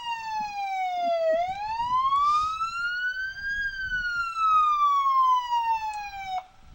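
A volunteer fire department engine's wailing siren rises and falls loud and clear during a town street festival parade, with faint crowd and engine rumble underneath.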